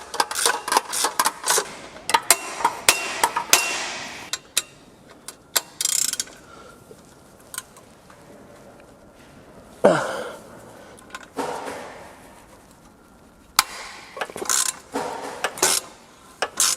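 A Porsche 911 exhaust nut is worked loose with clicking ratchet strokes in short irregular bursts, close by, with quiet gaps between and a few louder metallic clanks.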